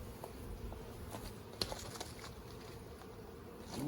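Angry honey bees swarm around an urban hive, a steady close buzzing with occasional sharp taps and flicks, holding at a fairly even level throughout.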